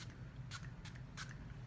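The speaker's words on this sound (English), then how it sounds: "Yeah, so I'm gonna spray it here." Two short hissing bursts of perfume spray from a fragrance atomizer, quick and close, over a low steady background hum with no talking.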